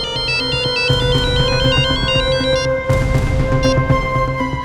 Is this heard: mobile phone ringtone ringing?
yes